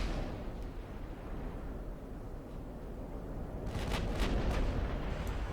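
Naval gunfire from 14-inch guns in the warship battle game Ultimate Admiral Dreadnoughts, opening at maximum range: a steady low roar of distant booms and rumble, with a cluster of sharper blasts near the end.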